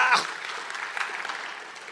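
A church congregation claps during a sermon on the Good Samaritan, a brief, dense burst of applause with a voice heard at the start.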